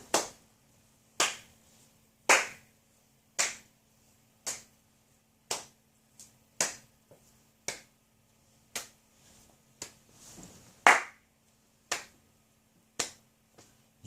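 One person claps alone, sharp single claps spaced roughly a second apart, about a dozen in all, close and dry with silence between, in salute of the Houston Astros sweeping the Orioles.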